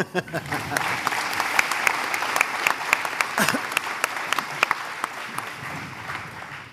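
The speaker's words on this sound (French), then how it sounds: "Ben, vous pouvez l'applaudir encore." A panel audience at a business event claps for a panelist, the applause thick and lively with sharper individual claps standing out, while faint voices murmur underneath.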